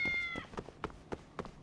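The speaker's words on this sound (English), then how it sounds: "Cat laughed at me." A short cat meow in Lost Judgment opens the moment, followed by a run of soft rhythmic footsteps or thuds at irregular intervals, close and fairly clear.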